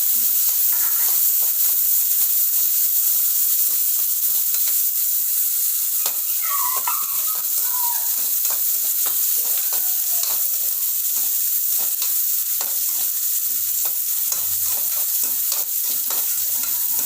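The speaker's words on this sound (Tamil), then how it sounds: "வெங்காயம் பச்சை கருவேப்பிலை எல்லாம் போட்டு வதக்கணும்" Onions and curry leaves sauté in a pan for rasam, giving a continuous bright sizzle with repeated scraping stirs throughout, close and steady with no talk.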